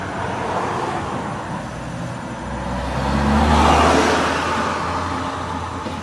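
A Buick running after its engine blew up idles with a rough, steady drone, swelling briefly as if revved partway through before settling back, heard close and with no talking.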